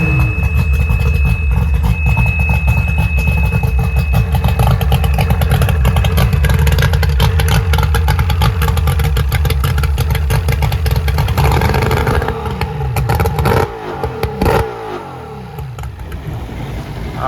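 The outboard engine on an old Ranger bass boat under restoration fires up and runs loud and close, a steady throbbing roar that rises and falls as it is revved.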